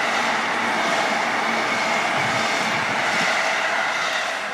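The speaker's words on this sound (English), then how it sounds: "Loud ass train!" A loud train passes close by in Tokyo. Its steady roar of wheels on rails fills the whole stretch at an even, heavy level with no gaps.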